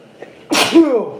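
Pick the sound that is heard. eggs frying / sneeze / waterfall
sneeze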